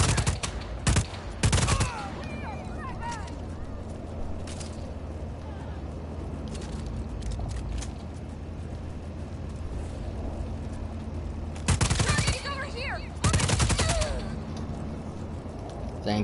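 Bursts of gunfire from the open-world action game Just Cause 4, with two loud volleys near the start and two more later, separated by a long stretch of steady rumbling background noise.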